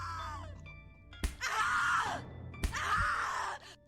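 In the horror video game The Cat Lady, a person screams loudly and at length, twice. Each scream opens with a sharp thud and ends in strained groaning, close and harsh.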